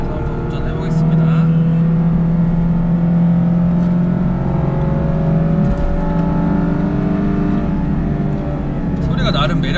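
Lexus LC500h hybrid coupe driving on a cold winding road, a steady engine drone with a long rising then falling tone, loud and continuous throughout, while people talk over it.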